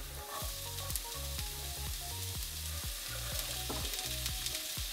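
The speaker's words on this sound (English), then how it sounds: "Let's get our peppers and our zucchini in." Peppers and zucchini sizzling steadily in a hot pan, with repeated stirring scrapes throughout, close and fairly quiet with no talk.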